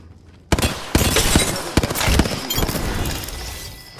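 Video-game gunfire from Apex Legends: loud, sharp bursts of shots and crashing impacts start abruptly after a brief quiet lead-in, then continue in dense, overlapping rapid fire.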